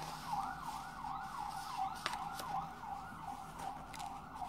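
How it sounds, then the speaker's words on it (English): A wailing ambulance siren cycles up and down at a distance, fairly faint, with a sharp knock partway through. "Ambulance."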